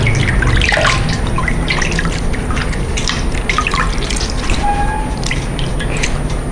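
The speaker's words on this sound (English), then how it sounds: "You make sure you wash very well with enough water." Afang soup vegetables are washed by hand in a basin of water, producing close, irregular splashes, drips and trickles that sound busy and near, with no talking over them.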